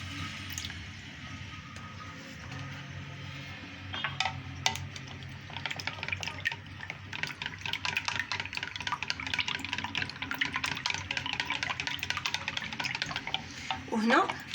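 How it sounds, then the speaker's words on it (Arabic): Milk poured from a glass into savory quiche batter and stirred, giving soft liquid splashes and a steady wet, scraping stir that grows busier partway through, close and moderately quiet. "غنضيف كاس ديال الحليب"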